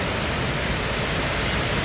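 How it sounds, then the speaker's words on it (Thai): A forest waterfall that flows year-round pours in a constant, dense hiss with no breaks, loud and close. "มานั่งฟังเสียงน้ำตก"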